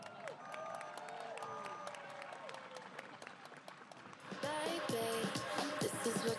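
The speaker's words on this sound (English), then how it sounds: "Let's give yourselves and Rachel a huge round of applause." A race crowd at the AJC Peachtree Road Race applauds and cheers, starting as scattered sound beneath background music and surging into a louder, fuller burst of clapping and shouting near the end.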